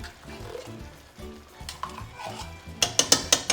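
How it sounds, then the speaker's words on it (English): A spoon works tomato paste into browned ground round in a pan, with soft scraping and stirring strokes followed by several sharp clacks of the utensil against the pan near the end, close and moderately loud. "now just adding the tomato paste, and I'll mix that in and brown it with the meat"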